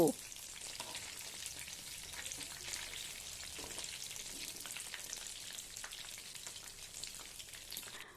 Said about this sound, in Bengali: এবং খুব ভালো করে লাল লাল করে বোথ সাইড একটু ধিমে আঁচে ভালো করে ভেজে নেব।